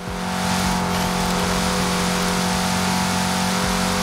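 A Chevrolet Camaro SS tuned for drifting in Forza Horizon 4 revs hard with a loud, sustained engine drone held at steady pitch, close and alone.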